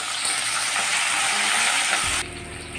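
Onions and green chillies fry in a pan with a loud, close, continuous sizzle for about two seconds before it cuts off abruptly.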